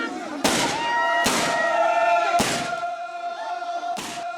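Four sharp gunshots ring out in a village ceremony to wake a newly made log drum, loud blasts spaced about a second apart with ringing tails and a murmuring crowd between them.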